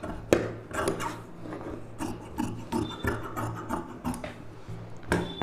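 Scissors cut blouse fabric along a marked neck shape for a design neck lining blouse, giving a run of soft, rasping snips in an uneven rhythm, close and fairly quiet, with no talk.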